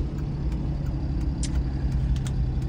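Cummins-powered Ram truck with a 48RE transmission under throttle while driving, a steady low engine drone and road noise with a few faint higher clicks.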